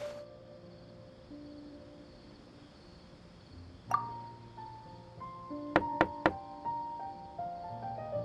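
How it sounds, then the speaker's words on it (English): A door knocked on in the game Genshin Impact: three quick, sharp raps in close succession, set over soft, sustained background music. "Let's try knocking."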